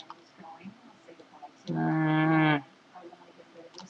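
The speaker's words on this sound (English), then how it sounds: "Shut up, you sheep. Making fun of me." A Minecraft sheep gives one loud, drawn-out bleat of almost a second in the middle, with soft game background sounds and faint clicks around it.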